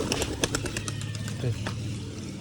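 Pigeons on a rooftop loft, with a few soft coos and the light flutter of birds taking off and settling, a steady outdoor background behind them and a distant vehicle passing.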